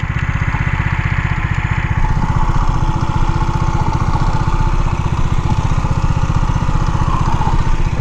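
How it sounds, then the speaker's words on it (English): A Hartford HD125 motorcycle with a 125cc engine idles loud and close, its steady rapid low putter running unbroken throughout with no voices over it. "Oh, fab little bike."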